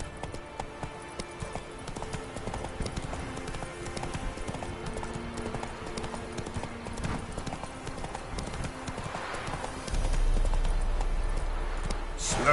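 Hooves clip-clop in a quick, steady rhythm as a horse gallops in The Witcher 3: Wild Hunt, close and constant, with a low rumble swelling near the end.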